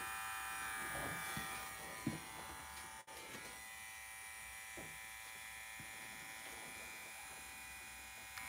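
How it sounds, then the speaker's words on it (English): Electric hair clippers drone steadily through a haircut, a close continuous buzz with a few faint taps and bumps against it and no clear talk. "Is he shaving his head or blending in with his current hair?"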